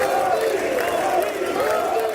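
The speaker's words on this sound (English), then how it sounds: "Lawmakers stood up and applauded as he walked up to the podium to deliver his address." Lawmakers in the US Capitol chamber fill the room with a dense, continuous roar of crowd noise and cheering voices, steady and loud throughout.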